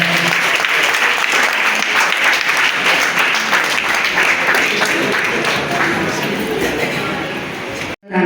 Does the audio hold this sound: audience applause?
yes